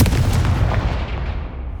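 Confringo explosive spell cast in the Hogwarts Legacy video game, a loud booming blast with crackling rumble that decays over under two seconds, no voices over it.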